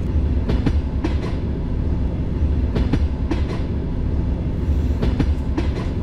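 Video-game electric train ride: rhythmic clickety-clack of wheels over rail joints, in paired beats, above a constant low rumble of the moving train.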